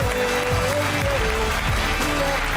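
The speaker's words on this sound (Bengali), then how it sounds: "জোরে হাততালি আরো একবার ওর জন্য" A studio audience at the Mirakkel comedy stage show breaks into dense, continuous applause, loud and even throughout, with a faint musical tone underneath.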